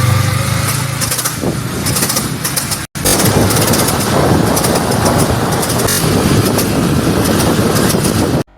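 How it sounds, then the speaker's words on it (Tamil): Loud, steady motorcycle engine running close by, with a harsh rattling, grinding mechanical clatter from a worn chain and sprocket throughout and a brief dropout near the start. "நீங்களே பாருங்களேன் செயின் ஸ்பாக்கெட் எப்படி சவுண்ட் கேட்குதுன்னு"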